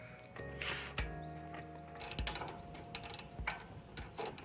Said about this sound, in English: you're gonna want one of these ratcheting wrenches